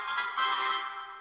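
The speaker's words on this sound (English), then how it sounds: "that's my text ringtone" A phone text message ringtone chimes once, a bright tonal alert that sounds close and clear for about a second, then fades slightly.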